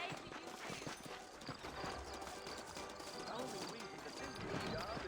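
Horse hooves clip-clop steadily through a Red Dead Redemption game scene in a frontier town, a continuous close trotting rhythm mixed with ambient game sound and voices talking over it.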